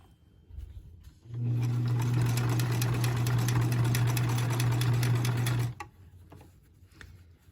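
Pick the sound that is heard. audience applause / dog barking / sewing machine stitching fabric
sewing machine stitching fabric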